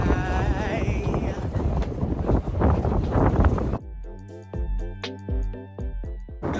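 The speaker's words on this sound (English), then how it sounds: "It is so windy up here." Strong wind buffets the microphone on the Empire State Building's 86th-floor observation deck, a loud rushing roar for several seconds, then cut off by a burst of tonal music.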